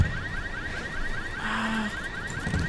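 A car alarm wails in the Ghost Recon Wildlands video game, its rising and falling siren cycling steadily at moderate distance over a low rumbling background, with no one talking.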